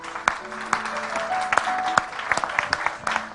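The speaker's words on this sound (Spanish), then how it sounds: "vamos a agradecerles su presencia con un fuerte aplauso" Applause at the Zabaltegi encounters of the 56th San Sebastián-style film festival edition in 2008, a steady crowd clapping with scattered sharper claps over a few seconds, moderately loud and with no talk on top.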